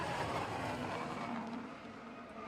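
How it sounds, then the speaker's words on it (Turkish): A Ferrari V12 race car engine on the track gives a steady, loud roar from a distance that fades slightly toward the end, with no speech over it. "İnanılmaz bir sesi var bu arada Ferrari motorunun. Gerçekten V12 motor takmışlar."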